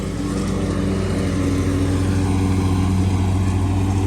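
String trimmer running steadily on a cold day of mowing, a constant droning engine hum close to the microphone, with no talking.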